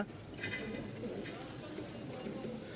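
High-flying Giribaj pigeons on a pigeon farm coo softly in low, murmuring calls, faint beneath someone talking nearby.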